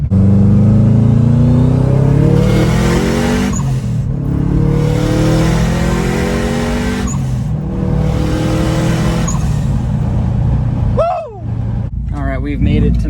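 Subaru Forester accelerating hard, its engine roaring up through repeated rising revs with short pauses between gear changes, loud and close, easing off near the end.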